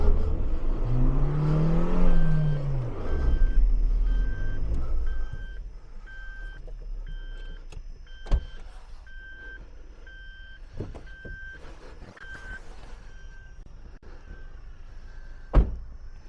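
A tracked vehicle rev its engine, climbing out of soft sand on sand ladders: a loud, rising engine strain for the first few seconds, then a quieter steady hum with a repeating reversing beep and a few sharp knocks.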